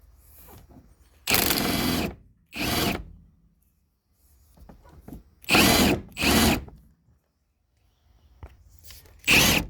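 Milwaukee power tool spinning a nut on a Toyota Prius rear shock (2010–2015) in loud close bursts, roughly five separate whirring runs of one to two seconds each with quiet gaps between.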